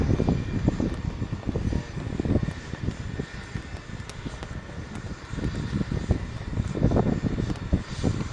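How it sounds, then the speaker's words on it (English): Light combat helicopter performing aerobatics at the Aero India 2019 airshow, its loud engine and rotor roar sustained throughout with pulsing surges, heard alone without talk. "This beauty, the light combat helicopter, surely teases as it goes away."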